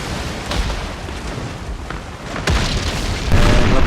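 Ship cannons boom in a Napoleon Total War naval battle, several heavy, dull blasts landing in close succession over a rumbling backdrop, with the loudest reports near the end.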